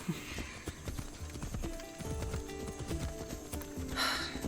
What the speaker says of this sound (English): apparently we're taking different horses now